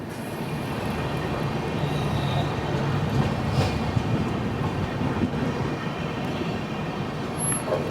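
Saurashtra Janta Express passenger train running on the rails between Veraval and Bandra Terminus, heard from inside as a steady, loud rumble and roar with faint rhythmic clatter, unbroken throughout.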